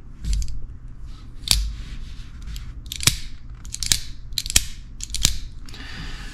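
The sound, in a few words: folding knife opening via shark lock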